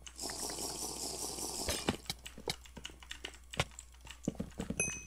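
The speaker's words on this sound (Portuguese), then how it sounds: "dá pra citar a diferença do barulho quando eu troco de teclado" Rapid computer keyboard typing while gaming in Minecraft, shifting from a dense, steady clatter to sparser, sharper individual key strikes after switching to a second keyboard; close and fairly quiet, with no talking.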